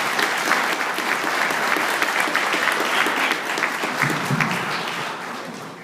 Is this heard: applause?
yes